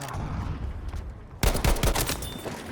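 Gewehr 43 semi-automatic rifle shots in Battlefield V, a quick cluster of sharp cracks arriving suddenly after a quieter stretch of game ambience.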